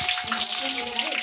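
Chopped onion frying in a hot pan on a home stove, a dense hissing sizzle that stays steady and close throughout, with no talking over it.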